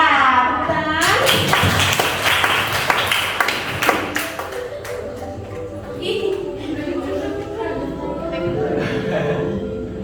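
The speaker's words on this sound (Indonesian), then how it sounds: "Tepuk tangan." Schoolchildren clap in a classroom after a teacher announces the top three students, a scattered burst of sharp individual claps near the microphone that thins out and gives way to chatter and the teacher's voice.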